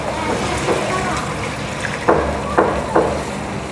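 Milk pours into a sizzling pan of chickpea masala, a soft continuous frying hiss with a few short splashy bursts near the end.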